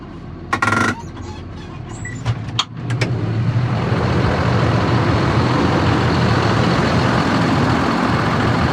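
A Claas Axion 850 Cebis tractor with a 268 hp John Deere engine idles steadily and close by, a continuous even rumble that settles in after a few brief knocks and clicks at the start.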